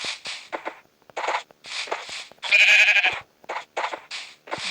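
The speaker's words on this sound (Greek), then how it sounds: "Κάμε ένα πρόβατο." Sheep bleats from Minecraft Pocket Edition, a run of short synthetic baa calls repeated in quick bursts, with one longer, louder bleat in the middle, close and clear with no talk over them.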